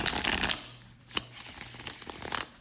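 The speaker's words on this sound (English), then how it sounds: "I'm even gonna shuffle them" A tarot deck with a soft rose-petal finish being shuffled by hand, giving a dense riffling burst, a sharp tap near the middle, then softer continued shuffling, close and alone.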